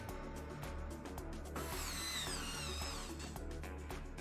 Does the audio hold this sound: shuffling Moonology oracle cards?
no